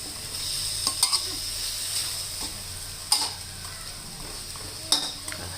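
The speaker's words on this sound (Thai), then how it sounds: "เราก็ผัดก่อนนะคะ" Pork with bell peppers stir-fries in a pan, a steady close sizzle broken by several sharp scrapes and clanks of a spatula against the metal.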